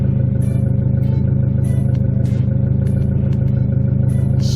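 A turbocharged Honda Civic with a D16Z6 engine idles with a steady, loud mechanical drone and periodic clattering ticks, the throttle gently pressed for a mild rise in revs; close and alone with no talk.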